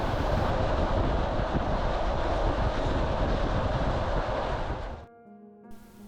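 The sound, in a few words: electric commuter train riding on rails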